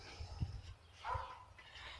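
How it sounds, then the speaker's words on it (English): A few short, faint dog barks and yips come from some distance during backyard work on a fairy garden, scattered irregularly over a quiet background. "As soon as I push the button, the dogs start barking."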